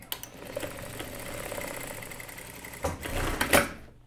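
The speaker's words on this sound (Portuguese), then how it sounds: "Primeiro eu vou costurar as minhas pences." A sewing machine runs steadily while stitching darts on a jumpsuit, a close, continuous whirring hum that stops briefly near the end before a short final burst.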